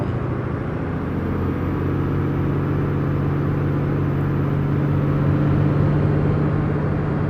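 A heavy semi truck engine rumbles steadily from inside the cab, a low droning hum that builds slightly as it drives.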